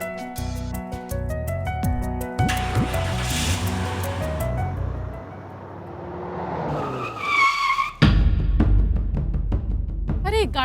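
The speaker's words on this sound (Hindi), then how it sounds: "अरे गाड़ी सुनसान सड़क पे काहे रोक दिए?" A car on a deserted road skids and screeches to a stop, with tire squeal and engine noise amid dramatic music, followed by a sharp impact and ringing tones.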